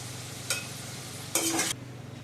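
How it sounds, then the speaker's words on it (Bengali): Whole cumin, dried red chillies and bay leaf fry in hot oil with a constant close hiss, and two brief bursts of louder crackling spatter break through. "তেলে আমি দিয়ে দিলাম গোটা জিরে, গোটা শুকনো লঙ্কা ফাটিয়ে দিলাম, আর দিলাম তেজপাতা"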